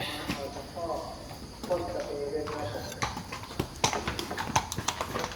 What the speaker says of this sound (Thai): เอาม้าออกจากคอก